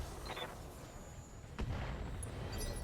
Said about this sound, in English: some okay artillery hits there.